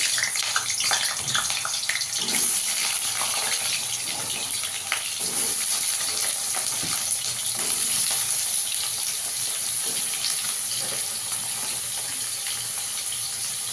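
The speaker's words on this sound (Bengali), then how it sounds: "এখানে আমি তেল দিয়ে দিয়েছি, আলুটাকে ভেজে নেবো আগে।" Potatoes fry in hot oil for a gravy, a close, steady hissing sizzle with scattered crackles, continuous and without speech.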